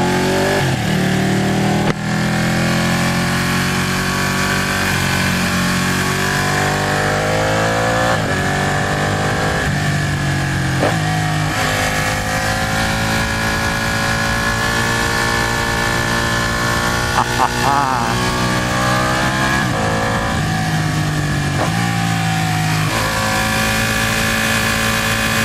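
A Ducati 899 Panigale sport motorcycle is being ridden, its engine droning loud and close the whole time and rising and falling in pitch as the rider works the throttle through the gears.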